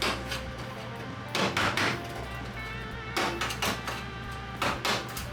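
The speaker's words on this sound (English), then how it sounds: "I'm just gonna hit it with a screwdriver a few times and try to break up what's on here" A screwdriver strikes rusted metal on an old car's floor to break up rust, a few close clusters of sharp metallic knocks separated by short pauses.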